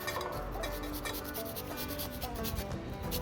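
Carrots grated on a small kitchen grater give a quick rhythmic rasping scrape, repeated strokes close up with no voices.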